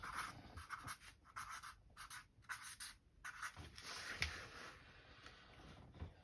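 A pen or marker scratches out handwritten notes in bursts of quick, close strokes, broken by short pauses, quiet and with no talking.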